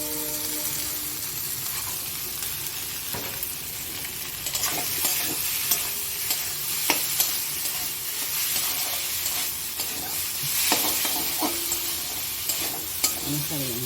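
Maggi noodles frying and being stirred in a pan with tomato and onion. A steady sizzle runs throughout, and close, repeated scraping and stirring clatters break through it at intervals. No one speaks.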